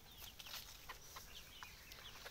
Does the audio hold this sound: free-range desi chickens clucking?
yes